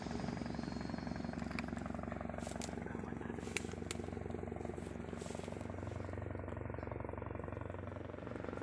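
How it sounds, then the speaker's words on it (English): A Bell 412 helicopter comes through as a rhythmic thudding rotor chop with a steady engine drone. It is fairly faint and runs throughout, with a few sharp clicks and pops scattered over it. "shows the TPN shooting at what appears to be a Bell 412 helicopter"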